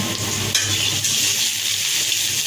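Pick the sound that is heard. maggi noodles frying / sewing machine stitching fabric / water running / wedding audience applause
maggi noodles frying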